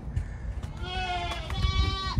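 Several goats bleat in overlapping, wavering cries over a muddy farmyard with rustling background noise, the calls fairly close and rising and falling in pitch.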